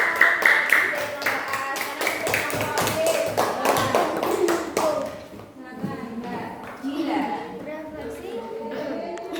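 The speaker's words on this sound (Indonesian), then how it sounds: "tepuk tangan untuk Mbak Inul" Schoolchildren in an elementary school classroom clap in a burst of fairly loud, rhythmic applause that fades after a few seconds, followed by children's voices talking.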